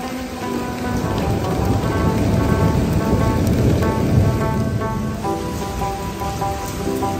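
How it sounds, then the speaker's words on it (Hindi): Heavy night rain pours outside during a storm, a dense steady hiss of drops drumming on surfaces, fairly loud and close, with a faint high electrical whine above it and no voices. "और आपने देखा कि बारिश कितनी तेज़ हो रही है"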